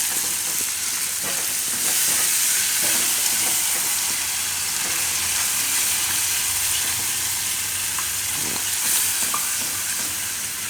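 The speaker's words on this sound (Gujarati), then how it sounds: "દહીં નાખતું જવાનું ને મિક્સ કરતું જવાનું" Yogurt being stirred into a bottle gourd curry cooking in a pan: steady sizzling and bubbling with soft spoon scrapes throughout, close and continuous, no voices.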